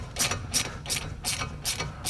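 A hand ratchet clicks in six evenly spaced bursts, loud and close with no talk, as it loosens the 7mm hex brake caliper guide pins on a 2012-2018 MK6 VW GLI.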